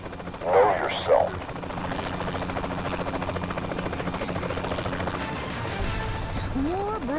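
A helicopter in the video game Saints Row: The Third gives a steady, rapid rotor chop that runs throughout. A couple of short bursts of louder impact noise come early on, and scattered game sounds play over the top.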